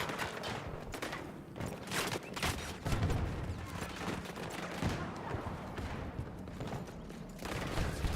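Sustained automatic gunfire in Battlefield 2042, dense repeated shots in rapid bursts across several seconds, with some distant battle noise and no clear talking.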